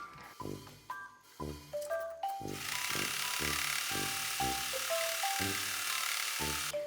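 An overlock serger sewing machine finishing the hem of an inner waistband runs with a steady, bright whirring buzz, mixed under a plucky melody of stepped notes.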